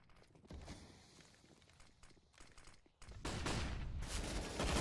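RPK machine gun fire during a competitive CS:GO match on the Nuke map, heard as rapid bursts of shots over game ambience and footsteps, growing louder and denser toward the end.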